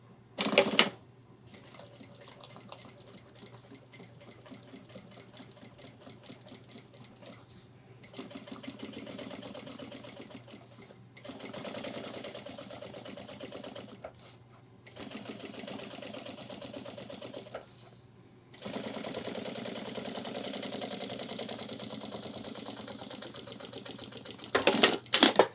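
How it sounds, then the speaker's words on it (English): Sewing machine running a second line of stitching along ultralight backpack fabric, heard in several long bursts of rapid, even mechanical chatter separated by brief pauses, close and moderately loud. "then we're going to do a second stitch and line this up on your machine however you need to or however you see fit"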